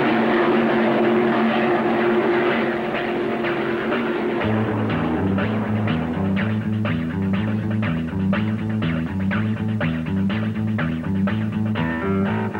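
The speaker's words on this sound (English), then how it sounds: "The signal to line up brings the powerboat fleet to the starting line at 45 miles an hour." A 1975 offshore powerboat race fleet at Marina del Rey roars past with a loud, sustained multi-engine drone whose pitch shifts and pulses steadily as the boats run at speed.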